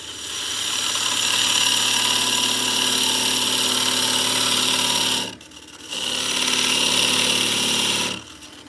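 A wood lathe spins a workpiece held on a tenon in a chuck, giving a loud, steady motor whine and rushing hum that drops away briefly twice before spinning back up.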